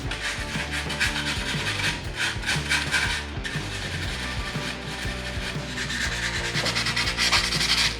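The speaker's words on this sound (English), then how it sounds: "That's why I'm just using the sandpaper." Sandpaper rubs in a steady, close rasp against the EGR pipe mating face of the exhaust manifold on a Land Rover Defender 110 TD5, cleaning it for a good seal. The strokes run continuously and no one talks.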